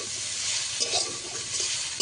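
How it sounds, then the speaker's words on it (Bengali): Bitter gourd with turmeric and chilli powder fries in a pan, a continuous bright sizzle broken by brief scraping stirs, close and steady. "ভালো করে একটু ভাজা ভাজা করে নেব।"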